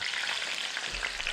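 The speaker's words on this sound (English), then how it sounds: "They'll sizzle a little" Cut potatoes hitting hot oil that has been heating for a while, giving a steady, close, bright sizzle and crackle with no pauses, heard alone.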